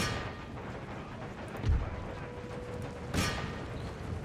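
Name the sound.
cannons firing in video game Empire: Total War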